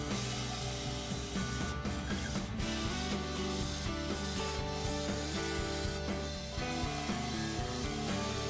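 A half-inch bowl gouge cuts a movingui wood bowl on a lathe, making a steady, continuous scraping and shaving sound over a constant motor hum, with no talking.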